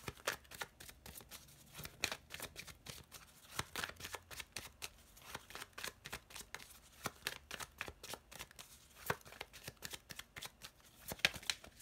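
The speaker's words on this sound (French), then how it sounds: "on va recouvrir tout ça avec mon petit Lenormand" Lenormand cards are shuffled and handled close by to lay a spread, a long run of quick, soft riffles and flicks that keeps going with no one talking.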